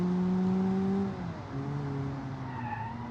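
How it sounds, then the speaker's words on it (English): A 1960s Nissan A10 1-liter engine in a driving game revs with a sustained, buzzy tone that falls and then climbs again, loud and close, with no talking. "but the engine sounds very cool."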